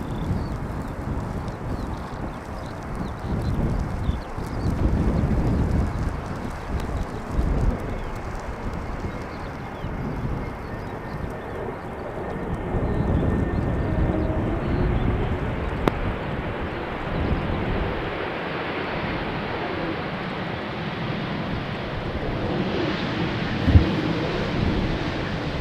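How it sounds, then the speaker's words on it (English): A Vueling passenger jet inbound from Barcelona on its landing approach at Amsterdam Schiphol in crosswind, a broad roaring rumble that swells and fades over time, steady and fairly loud, with no talking. "inbound from Barcelona. After a flight of 1 hour and 53 minutes, about to touch down."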